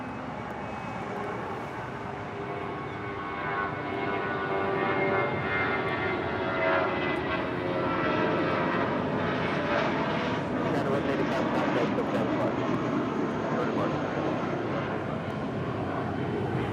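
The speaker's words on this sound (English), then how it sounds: "This is United 1185 departing to Los Cabos on an A320" A United Airbus A320 departing Los Angeles International Airport for Los Cabos gives a loud broad jet roar that swells and holds, with voices faintly audible underneath.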